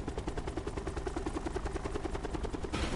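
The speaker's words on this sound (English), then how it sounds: "Hop in my chopper" A helicopter in the Call of Duty Black Ops 4 Blackout battle royale game gives off a loud, steady rotor throb with rapid rhythmic chopping that runs the whole time, then cuts to a brief burst of different noise at the end.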